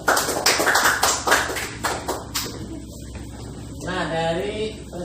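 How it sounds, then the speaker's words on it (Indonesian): Classroom students clap their hands, a quick burst of sharp, closely spaced claps that thins out over a couple of seconds before a voice speaks. "Ya, tepuk tangan."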